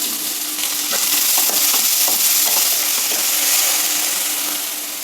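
A large, finely chopped onion frying with cumin in hot oil in a pan for hyacinth bean dosa, with a loud, close, steady sizzle and a few light stirring scrapes, and no voices.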